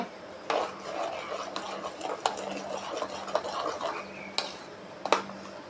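A spoon stirs a cleaning solution for kitchen tiles in a container, giving steady close scraping and clinking with a few sharper knocks against the sides, continuous throughout with no talk.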